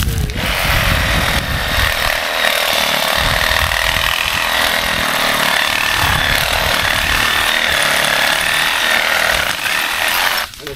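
A power saw cuts through tree branches during a land cleanup, with a loud, close, continuous buzzing whine that runs almost unbroken for several seconds before cutting off at the end.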